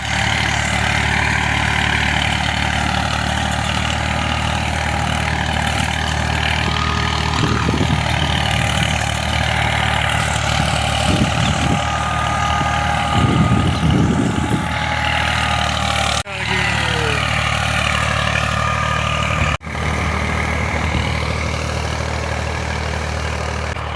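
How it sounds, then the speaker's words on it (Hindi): A tractor pulling a rotavator runs steadily in a village field, its engine making a continuous loud low drone with occasional rattles and two brief sharp knocks. "रूटावेटर फेरना सबसे मुश्किल काम होता है।"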